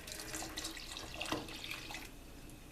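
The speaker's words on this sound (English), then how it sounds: "I'm gonna add 2 cups of water." Water pours from a tap into a cooking pot of beans, a short soft continuous splashing rush heard close and fairly quiet.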